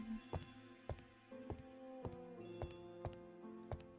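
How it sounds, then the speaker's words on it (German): A telephone bell rings in a quiet room, sounding as a row of sharp metallic strikes roughly every half second over a steady ringing tone, fairly close, with no voices. "Telefon."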